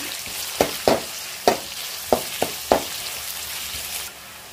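Chillies frying in a pan for chicken paneer masala, a steady sizzle broken by about six sharp stirring scrapes and clacks, close and fairly loud, with no talk.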